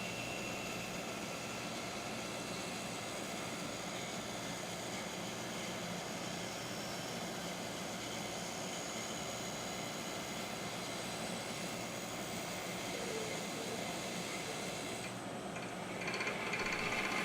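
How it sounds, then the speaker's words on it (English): A bandsaw cuts a curve through a wooden board, giving a steady, loud, unbroken mechanical hum and whine that holds at an even level throughout, with no voices. "one of the specialties of a bandsaw is the ability to cut curves"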